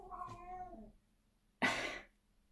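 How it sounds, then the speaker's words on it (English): A cat meows twice nearby: first a drawn-out tonal mew, then after a short pause a harsher, breathier cry, both alone in a quiet room. "Excuse the cat."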